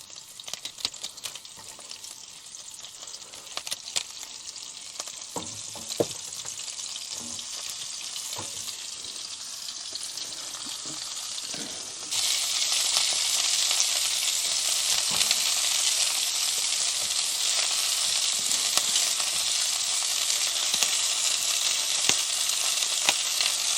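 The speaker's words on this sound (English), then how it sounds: "going to cook the vegetables first, and then that way, if the gas does run out before the wieners and the cheese get added" Vegetables with cauliflower leaves fry on a camping gas stove at a campsite in Shropshire, a steady close sizzle that jumps louder and brighter halfway through and then holds.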